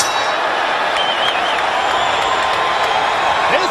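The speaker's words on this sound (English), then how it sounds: "This crowd is excited now." A boxing arena crowd at a Ricardo Mayorga versus Vernon Forrest bout, a continuous loud roar of cheering with scattered whoops and whistles from a large audience.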